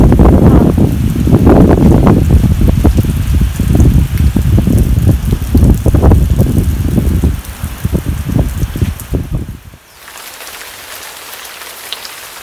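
Heavy rain drums on a surface in a dense, loud patter, easing off near the end into a faint, quieter hiss.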